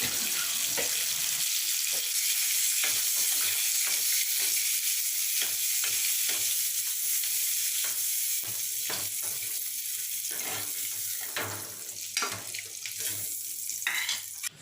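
Eggs sautéing in a hot pan for an egg kurma gravy, a steady loud sizzle with repeated scraping strokes of a spatula, the stirring taps growing busier toward the end.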